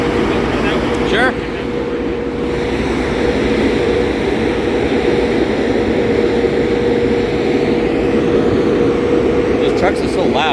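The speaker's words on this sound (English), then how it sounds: "Those trucks are so loud." Heavy trucks at a waste facility drone loudly and steadily nearby, a constant engine roar that carries on throughout, with people talking over it.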